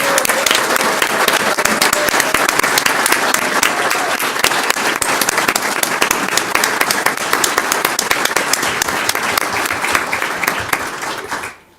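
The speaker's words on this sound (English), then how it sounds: "we can give you a huge round of applause for your" A standing audience at a school governing board meeting gives a long, loud, dense round of applause honoring someone's service, steady and unbroken for nearly twelve seconds before cutting off.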